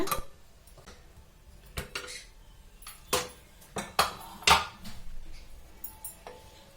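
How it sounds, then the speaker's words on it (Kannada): Metal pots, lids and utensils clatter and clank in sharp, irregular knocks as a pressure cooker of dal khichdi with brinjal is opened in a home kitchen, with several louder clangs near the middle. "ಈಗ ಕುಕ್ಕರ್ ತೆಗೆದು ನೋಡೋಣ"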